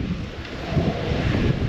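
An autumn wind blows across an outdoor fishing campsite, a low, continuous buffeting rumble that swells slightly in the second half, with no other sounds.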